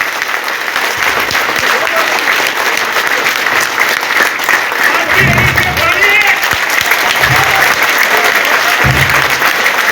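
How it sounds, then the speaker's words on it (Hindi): A crowd at a village welcome event for a film actor breaks into loud, sustained applause that fills the whole stretch, with a few heavier bursts of clapping and voices mixed in. "हाथ उठा के जोरदार तालियां मारिए"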